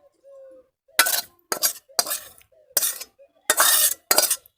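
Doi katla gravy is tipped into a metal vessel with a series of loud scraping and clinking bursts separated by short silences.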